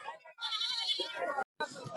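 Goats bleat at the Sangola goat and sheep market, a close, drawn-out wavering call followed by more brief bleats, with people talking nearby throughout.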